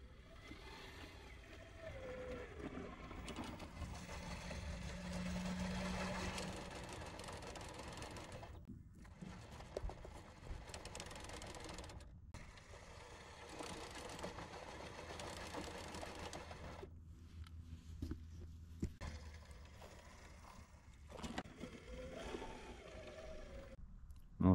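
Two 1/10 scale RC crawler trucks, one with a Cadillac body, drive with a whirring, ratcheting gear-motor whine that starts and stops in bursts with short pauses.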